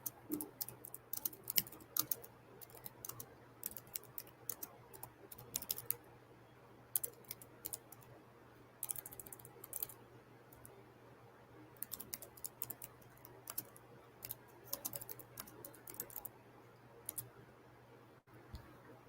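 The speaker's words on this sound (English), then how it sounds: "Hold on, y'all. I'm typing." Computer keyboard typing comes in quiet, irregular bursts of soft key clicks over a low steady hum, with no talking.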